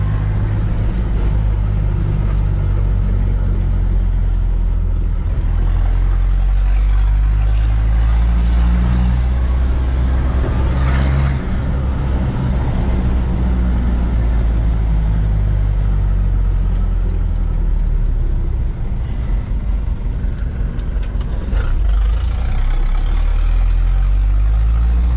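Chevrolet D20 pickup engine running while driving, with a loud, steady low rumble and drone from inside the cab that holds throughout and swells slightly at times.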